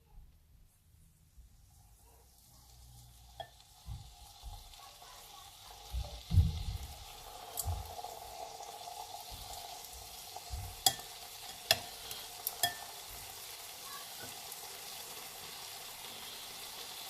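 Chicken tikka cooks on a George Foreman grill, a low sizzle that swells from near silence into a steady hiss, with scattered soft pops and knocks and a few sharp crackles, fairly faint and with no talk.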